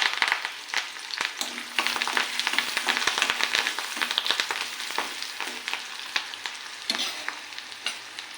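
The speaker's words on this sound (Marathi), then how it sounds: "कांदा छान आपल्याला परतून घ्यायचा आहे।" Chopped onion and curry leaves fry in hot oil for a spicy cauliflower dish, with a steady close sizzle broken by repeated scraping stirs of a spoon in the pan.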